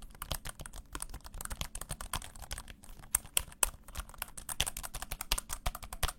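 Rapid, steady clacking of low-profile keyboard switches being typed on, close up and alone, with a few slightly louder keystrokes mixed in.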